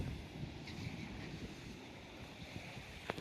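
Strong wind buffeting the microphone over steady sea surf on a breakwater at a river mouth, a constant broad rush with no talk.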